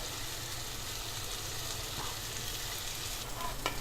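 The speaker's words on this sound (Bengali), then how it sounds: "এবার চিকেনগুলো আমি একটু উল্টে পাল্টে নেবো যাতে মশলাটা ধরে না যায়" Tandoori chicken pieces fry in a pan over a low flame, giving a steady close sizzle throughout with a few faint clinks near the end as the pieces are turned.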